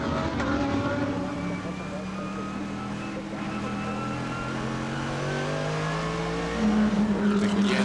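Schnitzer BMW GT race car at speed on the Oschersleben circuit, a steady engine drone with slowly rising pitch and a brief upshift, heard under continuous race commentary.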